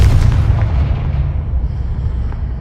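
A deep, booming Confringo spell explosion from the video game Hogwarts Legacy hits loud at the start, then rumbles and decays over a couple of seconds.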